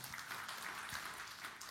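Faint, brief applause from a church congregation during a sermon, a soft patter of clapping heard from a distance without talking.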